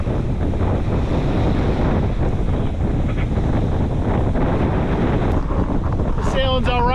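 Steady broadband wind roars across the microphone while a sailboat runs solo off the coast toward Catalina Harbor, with wave wash mixed in throughout and a brief voice near the end.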